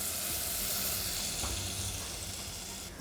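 A single garlic clove frying in a pan as the base for capsicum soup gives a loud, steady, close sizzle with an even hiss throughout, no voices.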